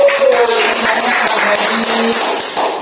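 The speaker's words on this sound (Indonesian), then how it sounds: "Oke, beri tepuk tangan dong." An audience applauds with dense, steady clapping that fills the room, loud and sustained, with some voices mixed in beneath.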